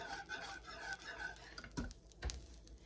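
A spoon stirring chocolate pie filling in a pot over heat, quiet scraping and swirling with a couple of sharp clinks against the pot's side.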